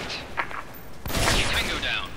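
Gunfire in the tactical shooter S.K.I.L.L. Special Force 2: a few faint distant shots early on, then a louder burst of rapid gunfire with ricocheting, metallic tails, heard alongside game effects.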